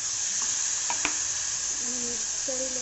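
Spiny gourd (kankoda) sizzling as it lands in hot oil tempering, a constant dense hiss up close with a couple of sharp clinks and faint tonal hums, no talking.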